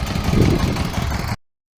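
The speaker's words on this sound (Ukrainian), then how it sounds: "Трактор сам поїхав, але він дорогу знає" A steady, rumbling tractor engine drones loudly and continuously with a low vibrating chug while driving on a muddy road, then cuts off abruptly into silence.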